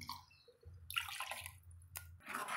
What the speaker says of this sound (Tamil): அதுக்கப்புறமா தண்ணி சேர்த்துக்கலாங்க